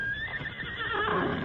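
A horse whinnies in a long, wavering neigh that rises and trembles, heard fairly close over faint background noise, with no speech.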